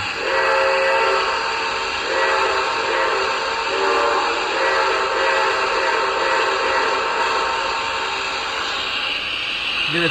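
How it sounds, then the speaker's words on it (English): A Lionel Vision Line Niagara model steam locomotive's whistle sounds continuously through a small boiler speaker, layered over a steady chuffing hiss that stays loud throughout. "Here's the whistle up at the front in the boiler speaker."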